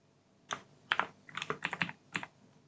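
Keys clacking on a computer keyboard, a short run of close, crisp keystrokes in irregular rhythm ending with a firm press, in a quiet room.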